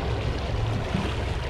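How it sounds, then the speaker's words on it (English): Outboard boat engines idle on the water after a sterndrive-to-outboard conversion on a Regal boat, giving a steady low rumbling drone with a faint hum above it, continuous and fairly close with no talking. "We already unloaded the boat, engines are running"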